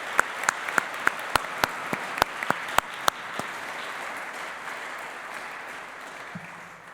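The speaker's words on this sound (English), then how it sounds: "So we can have a round of applause." Audience applause at a University of Greenwich graduation ceremony: a few sharp, separate claps open it, then a dense, steady wash of clapping from a large crowd that holds and slowly thins toward the end.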